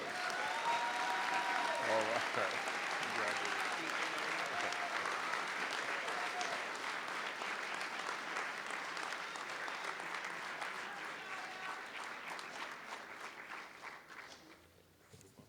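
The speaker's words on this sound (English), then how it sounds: "Please give her a warm round of applause." A large audience at a 2016 honor convocation gives sustained, dense applause that holds steady for many seconds and then tapers off, with a voice speaking briefly near the end.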